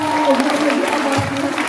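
Concert applause for a performer, a brief, steady wash of clapping from the crowd mixed with a lingering tonal sound from the stage.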